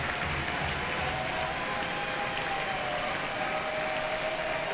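A college baseball crowd at an LSU vs Missouri game cheers and applauds steadily, a dense, continuous wash of clapping and crowd noise that holds at an even level throughout, with no clear talk on top.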